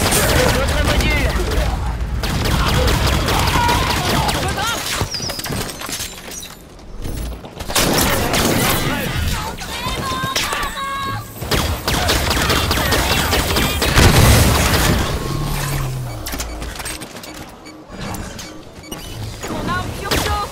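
Halo 5 gameplay fills with dense, loud gunfire in rapid volleys, mixed with crashes and booms throughout, with a player's voice occasionally heard under the din.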